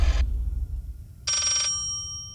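Telephone ringing after a number is dialed in the horror game Layers of Fear: two bright electronic ring bursts separated by a pause, clear and alone with no talk.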